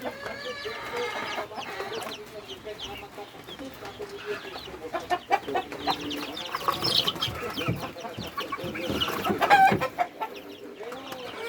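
Chicks and adult chickens cluck and peep steadily throughout at a backyard poultry pen, with overlapping calls near and far and occasional louder squawks.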